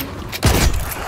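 A trench gun firing in the shooter game The Cycle Frontier: one loud, close, booming blast with a heavy low-end thump that rings out over about half a second.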